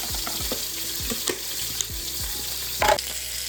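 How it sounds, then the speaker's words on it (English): Turkey burgers fry in a pan with a steady, close sizzle, broken by a few light scrapes and clinks of stirring or turning. "you can see the turkey burgers are getting brown. I'm just browning the other side"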